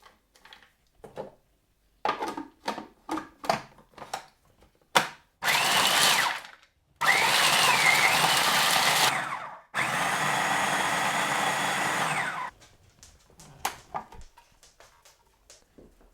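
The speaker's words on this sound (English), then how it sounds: "So this is our new food processor, running on our new on-grid electricity" An electric food processor grinds acorns in three loud, steady whirring bursts of a few seconds each, the last two longest. Scattered clicks and knocks from handling come before and between them.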